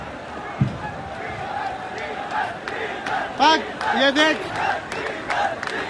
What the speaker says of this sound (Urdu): دیکھ لوگ کیا نعرے لگا رہے ہیں